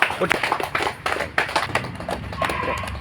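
A small gathering claps for Doraiswamy's birthday at an old-age home, uneven close-up claps mixed with talking voices.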